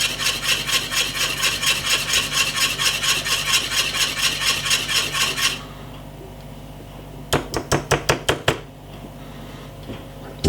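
A whisk beats rhythmically through thick peanut, oats and cornmeal porridge in a pot on an electric stove, with fast repeated strokes that stop, then a few quick sharp taps on the pot rim.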